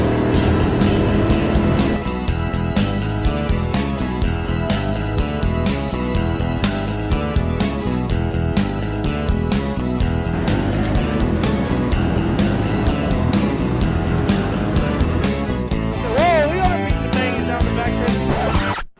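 Race cars running a dirt-track heat race, a dense continuous engine roar with revving and passing cars throughout, while an announcer talks over the noise.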